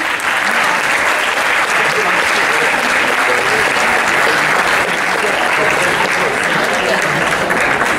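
Audience applause at a school stage show, a loud, dense and steady wash of many hands clapping together that continues evenly throughout.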